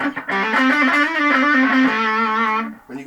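Electric guitar with distortion played through the neck pickup in normal, non-hum-cancelling mode with the volume up: a sustained, harmonically rich overdriven line of several notes, loud and close, ringing alone before cutting off.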